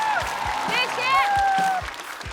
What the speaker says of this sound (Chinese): 掌声欢迎林简七！